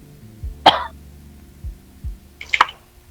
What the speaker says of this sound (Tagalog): Ubo ka yata